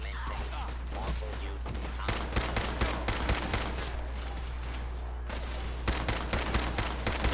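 A DKS-501 sniper rifle fires repeatedly in Fallout 4, sharp shots in irregular bursts over a constant low hum, with gunfire clustered in the middle and near the end.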